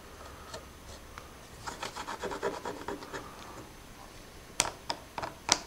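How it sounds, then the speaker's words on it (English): A cross-grain scratch cut into a wooden surface with short scraping strokes, a run of close rubbing bursts in the middle and then several sharper, louder scrapes near the end, close and with no talk. "we'll cut a little cross-grain scratch in here"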